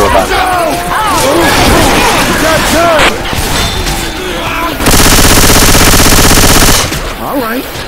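Rapid gunfire from the zombie shooter Left 4 Dead 2, loud and close: bursts of automatic shots with a sustained dense stretch of continuous fire, mixed with shouting game voices.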